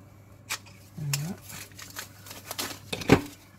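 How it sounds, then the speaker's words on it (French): Crinkly plastic packaging being pulled and torn off a WRMK Word Punch Board, producing scattered crackles and rustles close by, with a brief voice-like tone and a sharper crunch near the end. "L'emballage n'est pas facile à enlever non plus."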